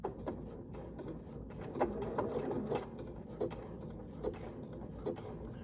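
A sewing machine stitches a Dresden wagon wheel quilt block, a faint, quiet mechanical whir broken by short bursts of rapid stitching at a slow, careful pace.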